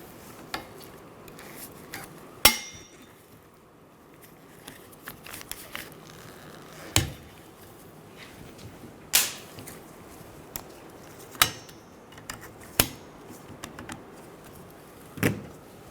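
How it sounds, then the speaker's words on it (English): Wiper blade work on a 2000-2007 Ford Focus wiper arm gives a series of sharp plastic clicks and taps spaced every second or two, close and alone over quiet background. "We're going to pull the wiper towards us, click it in, and then gently replace it to the glass."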